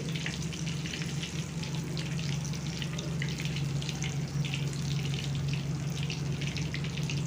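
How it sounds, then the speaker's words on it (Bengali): Spiced fish fries in a pan over a medium flame with a continuous, fairly loud sizzle and crackle, backed by a steady low hum, and no one speaking. "এরকম মাছটা মিডিয়াম আছে ধীরে ধীরে ভেজে নিতে হবে যাতে মাছটা ভেতর থেকে সেদ্ধ হয়"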